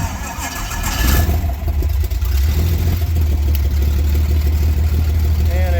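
A small airplane's piston engine cranks and catches, then settles into a loud, steady, low drone. A voice is heard over the opening moments.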